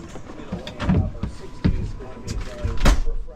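An RV door shuts with a couple of solid thumps amid rustling and movement nearby, close and fairly loud, at a state park campsite.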